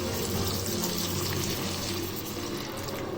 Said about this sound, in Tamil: இப்போ 1 கப் தண்ணி ஆட் பண்ணிக்கோங்க.